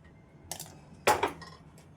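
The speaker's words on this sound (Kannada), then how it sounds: "ದೇವ್ರ ಪಾತ್ರೆ ಎಲ್ಲ ತೊಳೆದ್ಬಿಡ್ತೀನಿ." Metal prayer-room vessels being washed at home, giving two short clanking bursts of clinking dishes a moment apart, the second louder, with quiet in between and no talk.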